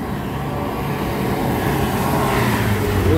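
A Mitsubishi L300 pickup climbs past on a steep rock road at night amid roadwork, a steady low engine drone rising slightly as it nears, continuous and fairly loud with no talk.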